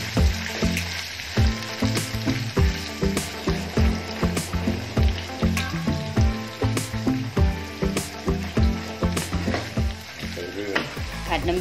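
Tamarind chili paste stir-fried in a pan, sizzling continuously while a utensil scrapes and stirs in a regular rhythm of repeated strokes, close and fairly loud.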